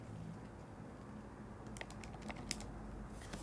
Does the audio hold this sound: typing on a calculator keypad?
yes